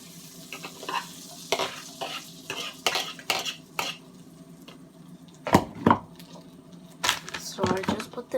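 Eggs frying in a pan on the stove, a steady sizzle underneath repeated utensil scrapes and clinks against the pan, with several louder clattering bursts.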